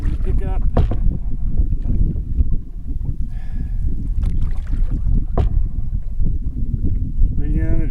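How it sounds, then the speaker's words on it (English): Wind buffets the microphone while canoeing into a strong headwind on a lake, a continuous blustery rush with paddle and boat noises, as someone talks over it. "but the wind's starting to pick up."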